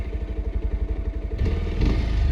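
A 2025 Bajaj Pulsar 150 motorcycle running low on fuel cranks with a rhythmic chugging pulse, then catches and settles into a loud, steady engine rumble up close.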